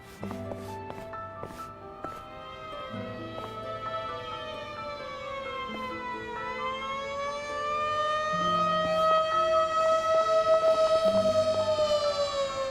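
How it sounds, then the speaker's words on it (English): Police sirens in the video game Yakuza: Like a Dragon rise and fall continuously over a steady rumble of engine-like drone, growing louder toward the end, with no voices. "Man, those police sirens are annoying."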